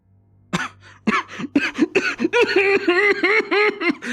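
A voice imitating a cough: a series of rough, hacking coughs and throaty sputters, rapid and close, sometimes verging on choked laughter.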